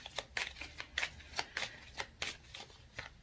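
Tarot cards being shuffled during a reading, a quick series of crisp riffling flicks in a steady rhythm, close and clear with no talking.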